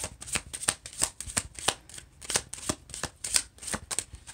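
Tarot cards are shuffled by hand in quick, rhythmic riffles, a dozen or so crisp flutters in close succession, near and fairly quiet with no talking.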